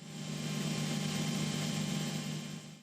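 A police traffic helicopter flies over highways in Ankara, heard as a steady, moderately distant engine and rotor drone that swells slightly and fades, with no talking.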